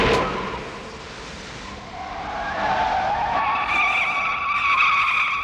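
Tire screech sound effect from the 1984 film The Terminator, a long skidding squeal that rises and holds through the whole stretch, loud and alone with no talk.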